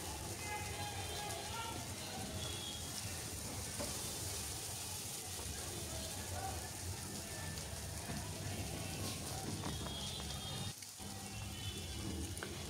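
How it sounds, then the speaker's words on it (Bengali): Onion, green chilli and whole spices fry in mustard oil in a pan, giving a steady, close, loud crackling sizzle that runs unbroken for the whole stretch, with only a brief dip near the end. "এখন সরিষার তেল আর এই পেঁয়াজ, কাঁচামরিচ, গোটা মশলা এগুলো আমি ভেজে নিচ্ছি"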